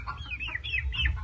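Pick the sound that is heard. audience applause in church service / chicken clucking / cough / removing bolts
chicken clucking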